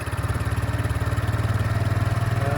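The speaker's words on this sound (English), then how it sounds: "All you do is press the start button and give it a little bit of throttle" A Peugeot Tweet motorcycle engine runs at a steady, throbbing low idle, close and fairly loud, with an even pulsing rhythm and a slight throttle lift near the end.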